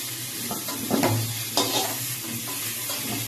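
Cauliflower florets frying in hot oil in a pan for a Bengali fish curry, a steady sizzle with stirring scrapes and clatter, close and moderately loud, no talking.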